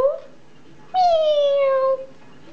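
A single drawn-out cat meow, near and fairly loud, rising then gently falling in pitch over about a second, against a quiet background.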